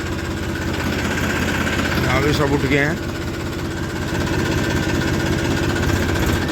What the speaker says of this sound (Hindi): तो ये ट्रैक्टर स्टार्ट हो गया है और अब लेके चलेंगे इसे